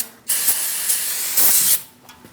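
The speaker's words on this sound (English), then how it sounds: "Now we're going to clean everything off using a little cleaner." Cleaner sprayed onto car parts while replacing transmission cooler lines on a 2006-2011 Chevrolet HHR 2.4L: two loud, close aerosol hisses, the second longer, with brief pauses around them.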